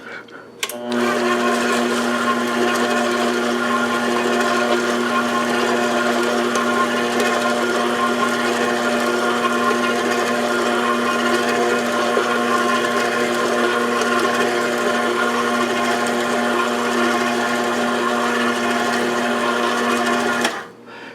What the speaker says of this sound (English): Just want to mix that into the batter as much as possible without beating it too much.